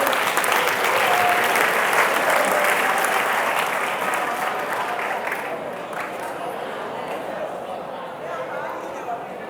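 A crowd of students and guests at a motivational school event claps steadily in sustained applause for a young student, loud at first and gradually fading as the clapping winds down.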